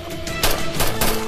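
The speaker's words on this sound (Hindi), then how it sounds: "सब मिलकर गोलियां चलाओ," Several loud bursts of gunfire in quick succession against a dense, noisy background, with no talking.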